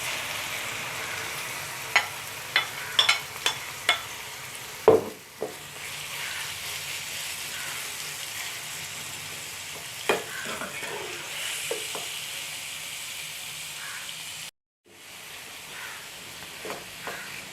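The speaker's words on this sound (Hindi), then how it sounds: "चिकन को हम इसमें अच्छी तरह से फ्राई कर लेंगे।" Marinated chicken frying in oil in a pan, a steady soft sizzle with scattered clinks and stirring taps, broken by a brief gap before the sizzling resumes.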